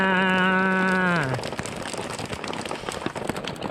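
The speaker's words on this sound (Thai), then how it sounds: "ฝนตกแล้วจ้า" Steady broadband hiss of rain at Phu Chi Fa, Chiang Rai, in the rainy season, after a brief sustained musical tone at the start, continuous and fairly loud to the end.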